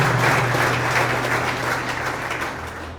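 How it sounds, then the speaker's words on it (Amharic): A church congregation claps during an Amharic testimony service, loud sustained applause from many hands that fades slightly toward the end, with a low steady hum underneath. "አጨብጭቡ እስቲ ለእግዚአብሔር ክብር።"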